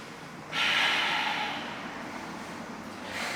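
Strong breathy exhale rushing out near the mic for about a second during a yoga class, then fading into a softer, sustained airy breath with a slight rise again at the end.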